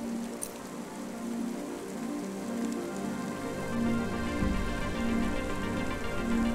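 Steady rain pours in the video game Cloudpunk on PS4, falling around a small restaurant; a dense, even hiss of raindrops patters on surfaces close by for the whole stretch, with no voices.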